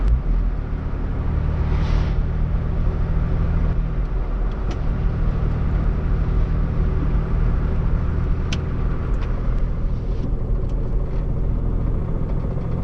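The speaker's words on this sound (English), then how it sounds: "Just hear that knocking." A Porsche Boxster engine with a reported knocking fault runs steadily close by, a constant loud rumble with faint, irregular ticks over the top and no talking.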